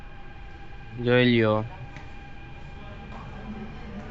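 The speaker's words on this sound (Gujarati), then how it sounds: "આ જો આપણે ટ્રેન આવી ગઈ છે" A train pulls into a station in Bhuj, giving a short, loud horn-like blast of about half a second over steady station hum, with a person talking nearby.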